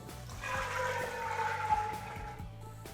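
Liquid pours steadily into a pot while cooking military-style pea soup, a continuous splashing gurgle lasting a few seconds with a faint hum underneath.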